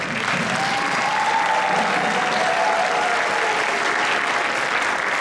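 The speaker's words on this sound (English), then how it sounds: "I'd like to give a big round of applause to all the parents out there." A large audience applauds steadily and densely at a school band's winter concert, the clapping sustained and fairly loud for the whole stretch without voices on top.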